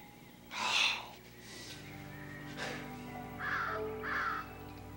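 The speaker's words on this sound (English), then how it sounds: "Well, it's a crow." A black crow caws several times at moderate distance, the harsh calls coming in spaced bursts against a steady low hum, with no one speaking.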